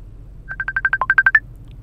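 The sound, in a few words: cellphone ringing with an incoming call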